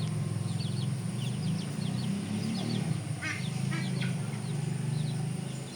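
Chicks and hens outdoors give faint, scattered high peeps and chirps over a steady low rumble, with brief clusters of calls in the middle of the stretch.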